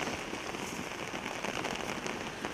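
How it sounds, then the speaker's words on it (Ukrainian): Steady rain falls outdoors on a gloomy day at a funeral farewell for a fallen soldier, a dense, even patter of drops on surfaces, close and constant with no voices. "ми стоїмо зараз цю похмуру, дощову погоду"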